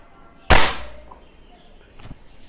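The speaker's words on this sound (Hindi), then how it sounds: "ये तीसरा शॉट हमने चलाया" A single loud shot from an NX200 air rifle fired at a target, a sharp crack that decays quickly, followed by a faint tap and click a moment later in a quiet setting.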